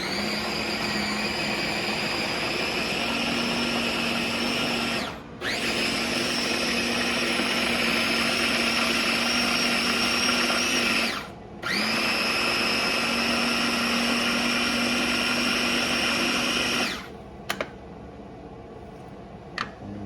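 A food processor whirs steadily as it purées shrimp for shrimp balls, a loud continuous motor drone that cuts out briefly twice as it pulses, then stops near the end.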